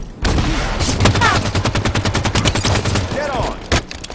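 Loud, close automatic gunfire in the video game Halo 5, with rapid sustained bursts of shots in quick succession and a voice speaking briefly amid the shooting.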